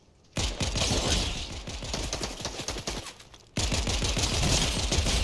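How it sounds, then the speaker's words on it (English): A tactical pistol fires rapid, loud volleys of shots in Fortnite gameplay, with one sustained run of fire, a brief gap, then another dense burst, without speech. "That tack pistol's insane!"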